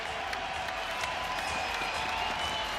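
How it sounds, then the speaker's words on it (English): Crowd applause at a freestyle wrestling event, a steady wash of clapping from a standing arena audience, fairly distant and even, with faint cheering mixed in. "Everyone, stand up and give your applause for Ben Askren."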